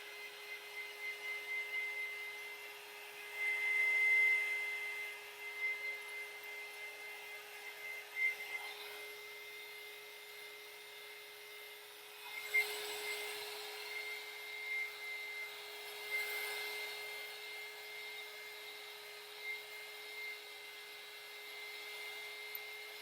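A heat tool blows a steady airy whoosh over an epoxy art resin tumbler, fairly faint and continuous, with a few louder swells as it is moved around.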